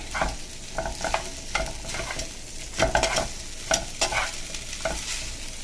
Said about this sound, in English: you want to add your noodles and just throw it in there. I generally like to just mix it up.